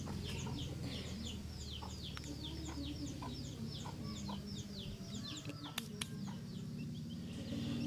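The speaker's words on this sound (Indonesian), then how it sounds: "di sekitar rumah kami banyak ayam" Chickens clucking around a house garden, repeated soft clucks and calls from several birds at moderate distance over a steady low background hum, no voices.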